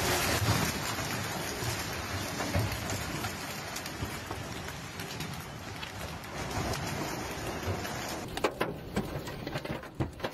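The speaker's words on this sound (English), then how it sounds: "Thunder rumbled between the ancient monuments." Heavy rain pours down in a storm over Rome, a dense continuous hiss of downpour with low thunder rumbling beneath it, and louder scattered impacts toward the end.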